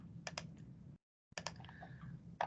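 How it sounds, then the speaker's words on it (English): Keys tapped on a computer keyboard during an online anatomy lab lesson: a few quick, soft clicks, a brief silent gap, then more light keystrokes. The sound is faint and close against a low hum. "I'm typing it in the chat."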